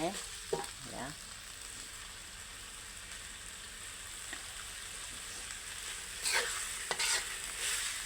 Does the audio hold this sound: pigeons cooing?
no